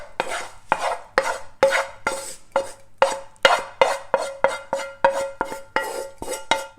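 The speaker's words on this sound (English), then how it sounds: "Now we're going to add the onion into the bowl." Fried onion scraped from a pan into a bowl with a utensil, a steady run of about a dozen sharp, close metallic scrapes and taps in an even rhythm.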